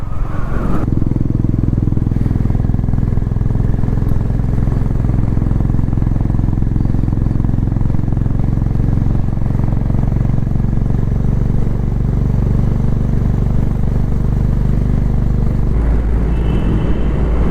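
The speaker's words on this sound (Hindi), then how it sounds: "भाई हाइनेस की साउंड जो आती है ना टनल में, भाई साहब मज़ा आ जाता है एकदम।" Exhaust of a 2023 Honda CB 350 Highness with stock pipes, a loud steady low thumping rumble echoing inside a tunnel, holding even for the full stretch without speech.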